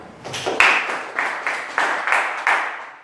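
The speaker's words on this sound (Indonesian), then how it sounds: "Tepuk tangan untuk kita semuanya" A small classroom group claps together at the close of a microteaching lesson, roughly eight crisp, evenly spaced claps in a steady rhythm, close and moderately loud.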